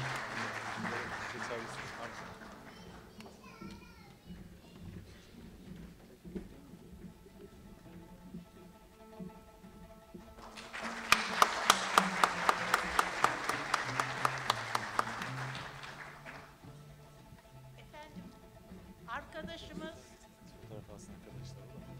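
Audience applause at a Turkish classical music concert of a music association in Van, swelling into a dense burst of clapping mid-clip, with talk and background sound before and after.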